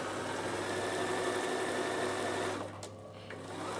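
A Bernina sewing machine stitching through fabric, running at a steady, fast, even whir for a few seconds before slowing and stopping near the end.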